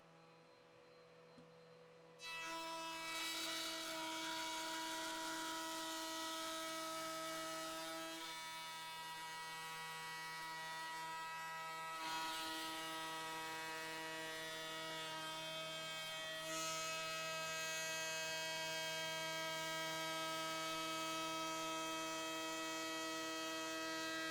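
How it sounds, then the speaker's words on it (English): A router table fitted with a panel-raising bit starts up and cuts a raised panel for a serpentine chest of drawers: a sudden motor whine rises, then holds a steady loud tonal hum with slight shifts in load, and no voices. "So we're going to do a raised panel here at the router table."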